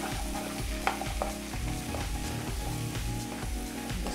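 Beef for a hot pot sears and sizzles in a hot pan with tomato puree, a steady frying hiss broken by regular scraping strokes of a utensil stirring the meat.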